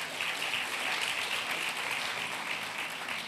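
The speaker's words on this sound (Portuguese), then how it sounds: "Vamos aplaudir Jesus?" A church congregation claps steadily and evenly throughout, a dense wash of applause with no voices over it.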